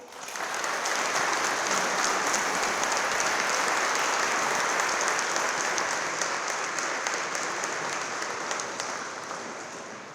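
Audience applause at the close of a TEDx talk, a sustained dense clapping that starts abruptly, holds steady and tapers slightly toward the end.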